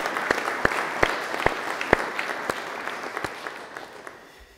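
A church congregation at a Franconian Christmas service applauds, with a few loud distinct claps standing out over a dense wash of hand-claps that gradually thins and fades.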